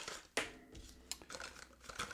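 Paper crinkles and rustles close by as a cheap £1 portable speaker is unpacked, with a sharp crackling burst followed by softer scattered crinkles and rustles.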